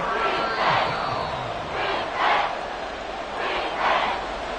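A football stadium crowd roars in repeated swells, a dense wall of cheering and shouting that rises and falls in several waves over a few seconds.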